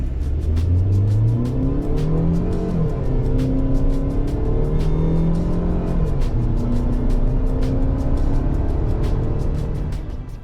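Tata Harrier/Safari petrol SUV accelerating hard in sport mode on a flat stretch, engine note rising through the revs with clear gear shifts, loud and close from inside the cabin, without talk.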